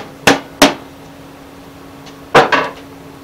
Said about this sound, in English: Now we're going to take our wire nail, we're going to stick it in that hole, we're going to pound it in.